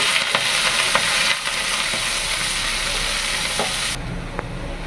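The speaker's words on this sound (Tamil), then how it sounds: "கொஞ்சோண்டு சீரத்தை போட்டுக்கிட்டு வெங்காயத்தை போட்டு வதக்கிடுவோம்ப்பா" Onions and cumin fry in hot oil with a dense, steady sizzle close by, punctuated by occasional spoon scrapes as they are stirred; the hiss drops slightly in the last second.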